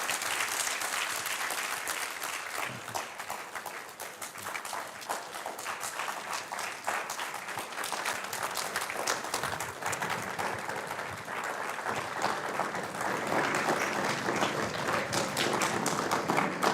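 An audience in a lecture hall applauds steadily after a distinguished lecture. The dense, continuous clapping carries on for the whole stretch with no talking over it.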